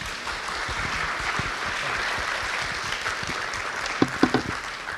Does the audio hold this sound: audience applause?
yes